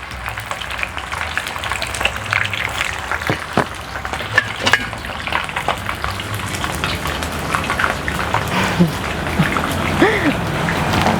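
Steady crackling sizzle of chicken feet frying in hot oil over medium heat, with scattered pops and spatters throughout, fairly close and continuous.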